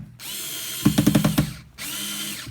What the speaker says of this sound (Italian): io posso avvitare direttamente questa, dopodiché cambiare, andare su PH1 e avvitare questa e questa